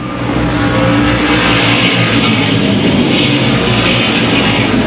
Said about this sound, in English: a real tightly bunched pack of cars from second on back